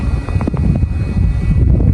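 Strong wind blowing high up during Vietnam kite flying, a steady close rumbling roar that buffets the microphone without pause throughout.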